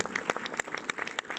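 Audience applause at a film premiere screening of Rebelles in Orléans: a brief, dense burst of many hands clapping, with sharp individual claps standing out and a few voices faintly underneath.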